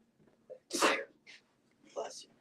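A single sharp human sneeze bursts out close by, preceded by a faint intake of breath. A quick short voice sound follows, heard indoors during a live sewing and fabric sale stream.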